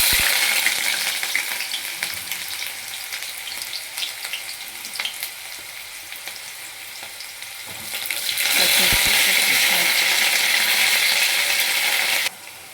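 Onions frying in hot oil in a home kitchen while ridge gourd curry is prepared, a steady close sizzle with occasional stirring scrapes that swells louder toward the end before cutting off abruptly.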